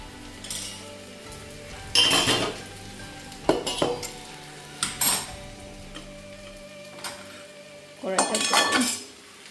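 A wok clanks onto a home stove amid kitchen bustle, with sharp metal knocks and clinks of pots and utensils in separate bursts, the loudest near the start and end, over faint background hum and a low voice.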